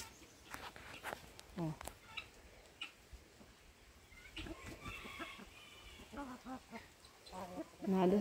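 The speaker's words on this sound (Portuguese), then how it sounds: "Vou botar aqui para as galinhas." Chickens on a small farm being fed, with scattered clucks and squawks amid rustling and movement, while a person talks throughout.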